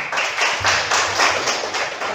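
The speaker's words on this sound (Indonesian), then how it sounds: "beri tepuk tangan untuk kelompok 1" Primary school class clapping hands for a presenting group after a lesson discussion, steady rhythmic claps from many children at moderate loudness with no talking over them.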